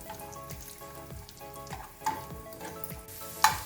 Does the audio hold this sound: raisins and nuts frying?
yes